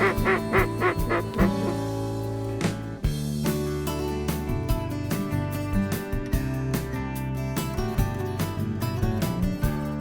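Mallard ducks quack on a bay, loud nasal calls in irregular bursts, several birds overlapping close by with honking notes mixed in.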